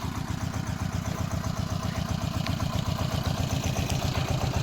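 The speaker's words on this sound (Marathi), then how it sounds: "आपल्या इंजिननं आहे" An engine on a farm runs steadily at idle, making a quiet, even, rhythmic thrumming pulse that lasts throughout with no voices.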